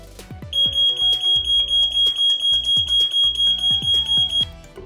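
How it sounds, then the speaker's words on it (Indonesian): An IDEALIFE LPG gas leak detector sounding its alarm on the test button: a loud, close, piercing electronic tone pulsing in rapid steady beeps for about four seconds, with clunks of handling before and after. "Nanti kalian semua bisa dengerin suara alarmnya."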